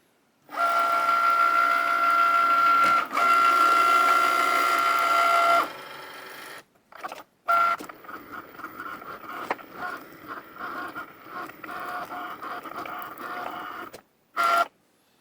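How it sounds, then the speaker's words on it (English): A Cricut Maker hums and whines steadily as it cuts colored cellophane, then shifts into stop-start carriage movements with clicks and brief whirring passes, close and alone. "pushing on the Cricut button and letting it do its trick"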